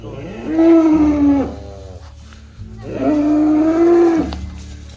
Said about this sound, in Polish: Krowy na mój widok spłoszyły się.